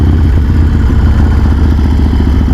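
Harley-Davidson Sportster engine roaring loud and steady through a wheelie, a close, continuous mid-pitched motorcycle rumble with a clattering edge and no pause.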